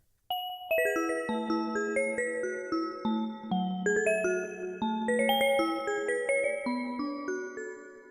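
Chiming additive synthesis bell patch played on a Behringer DeepMind 12 synth, a steady run of bright struck notes and chords with sustained ringing overtones, close and alone with no voice.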